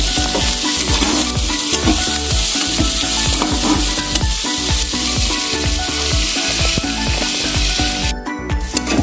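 Finely chopped onions sizzle loudly and continuously in hot oil with cumin and dried red chilli, with rhythmic stirring scrapes running throughout.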